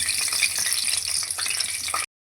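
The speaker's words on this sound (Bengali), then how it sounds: "এর মধ্যে এবার দিয়ে দেবো তেজপাতা আর শুকনো লঙ্কা ফোড়ন, আর দেবো 5 ফোড়ন।" Bay leaf and dried red chilies tempering in hot mustard oil in a pan sizzle steadily and hiss close up, with fine crackling spatter throughout before cutting off abruptly, and no talking.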